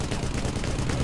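Dense, continuous gunfire from enemy aircraft in the air-combat game Air Conflicts: Vietnam, a loud rapid clatter filling the whole short stretch with no talk over it.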